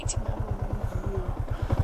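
A motorcycle engine runs steadily during a ride through the streets of Baguio, its low, even exhaust pulse close and continuous, with a brief rise in revs near the end.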